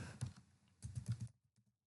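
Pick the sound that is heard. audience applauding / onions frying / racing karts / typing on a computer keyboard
typing on a computer keyboard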